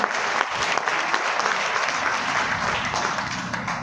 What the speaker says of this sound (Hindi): इनके लिए जोरदार तालियां बजाते हैं